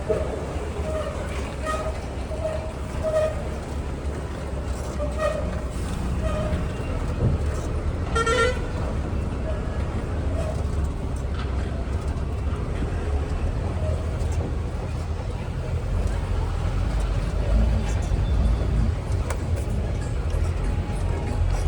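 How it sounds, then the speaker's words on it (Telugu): Busy road traffic heard from a truck on the road, a steady wash of engine and tyre noise with a few vehicle horns tooting, one clear honk standing out partway through, constant throughout. "అటు సైడ్ నుండి వచ్చే బండ్లకు కొంచెం ట్రాఫిక్ తగిలింది."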